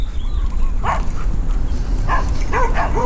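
Several dogs bark and yip at a distance in Thailand, short bursts scattered over steady background noise with no talking.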